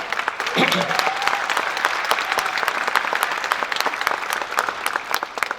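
Applause from an audience at a philosophy talk in Recoleta, a dense, crackling stream of claps with some voices mixed in early on.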